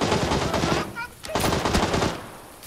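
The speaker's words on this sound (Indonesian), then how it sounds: "Siapa yang nembak?" Automatic gunfire from a Beryl rifle rattles in PUBG in fast, loud bursts, with a short lull in the middle before the shooting picks up again.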